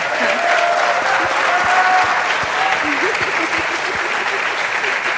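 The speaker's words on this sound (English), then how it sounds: "And I want to give them a round of applause for..." Sustained audience applause at a legislative forum honoring two freshman representatives, a steady dense wash of clapping throughout with faint voices mixed beneath.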